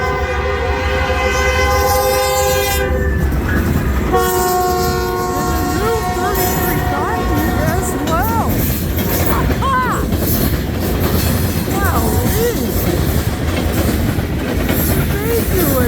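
CN freight train 3366 with rebuilt C6 locomotives rolls past at Ladysmith, Wisconsin, its horn sounding in long blasts over steady rumbling and clattering cars, loud and close throughout.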